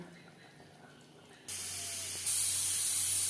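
Steam hisses sharply from a pressure cooker cooking mutton curry with potatoes, breaking into a loud, steady rush that rises to a shrill whistle near the end.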